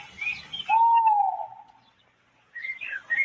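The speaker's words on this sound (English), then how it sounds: "CATWEAZLE meets an owl." An owl hoots in the Catweazle TV series: a smooth, drawn-out call in the middle, with sharper chirping bird calls before and after. No one speaks.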